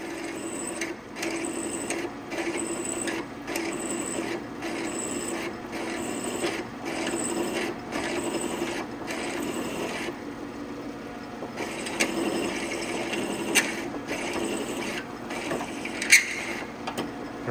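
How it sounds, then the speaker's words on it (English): Straight flute reamer cutting a hole in an aluminum wing strut truss for a Rans S-21 aircraft, a close, repetitive rasping scrape in short pecking strokes with brief pauses between them. "You really want to peck at it with these reamers."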